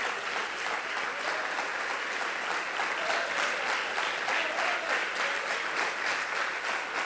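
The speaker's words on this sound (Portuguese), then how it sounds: "Pode aplaudir a Jesus." Sustained applause from a church congregation, dense steady clapping filling the space at a fairly loud level throughout, with no speech over it.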